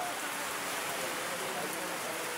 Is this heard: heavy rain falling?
yes